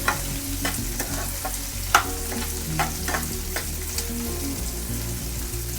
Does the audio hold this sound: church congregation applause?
no